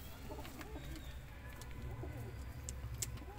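Teddy flying pigeons, a long-bodied breed, coo softly amid low murmuring bird sounds, with a few sharp chirps near the end and faint background voices.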